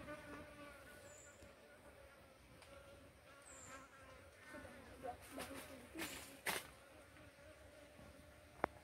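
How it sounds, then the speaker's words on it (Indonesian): Apis cerana honeybees collecting nectar give a steady, faint insect buzz throughout, with a few closer, brief rises as individual bees pass near. "ini adalah jenis lebah apis cerana ya yang sedang mengambil madu"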